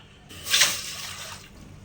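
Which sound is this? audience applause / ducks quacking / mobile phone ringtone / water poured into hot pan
water poured into hot pan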